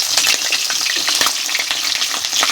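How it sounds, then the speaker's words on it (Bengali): Khoira fish frying in hot oil in a home kitchen, a dense, continuous crackling sizzle heard up close with no voices. "দেখো মাছটা ভাজা হয়ে গেছে, কত সুন্দর করে ভাজা করে নিয়েছি"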